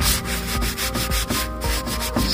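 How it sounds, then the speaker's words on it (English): Light hand sanding over polywax-coated wood on an antique daybed: close, continuous scratchy rubbing strokes repeating in an even back-and-forth rhythm, with no voices. "So go over the whole thing with the light sand."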